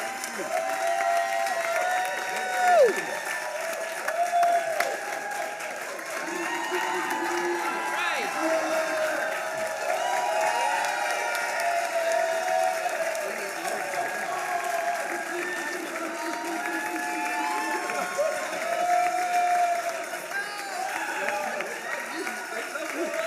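A large conference audience applauds and cheers at a live talk event, with sustained dense clapping, whoops and crowd voices mixed throughout, loud and continuous.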